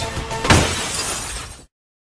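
A sharp crash is followed by a bright, sustained shattering like breaking glass, loud and close, then cuts to silence, standing in for a thrown pan shattering a monster's eye.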